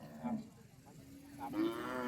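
Water buffalo moo at an outdoor livestock market in Borabue, Maha Sarakham, Thailand, giving two drawn-out low calls nearby with faint crowd noise behind.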